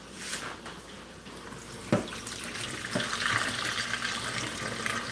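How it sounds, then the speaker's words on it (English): Water from boiled potatoes draining out through the strainer lid of a pot into a sink, a continuous splashing, gushing pour with a couple of sharp clanks of metal, close and fairly loud. "So come on over here and watch me drain these potatoes."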